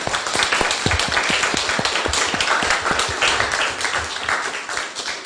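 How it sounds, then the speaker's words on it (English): A round of applause closes a conference on a fiscal discipline law, dense, loud clapping from a sizable audience with crisp individual hand claps, sustained evenly for about five seconds before easing slightly at the end, with no speech over it. "I will ask for a round of applause for our discussions"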